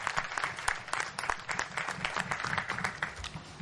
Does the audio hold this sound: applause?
yes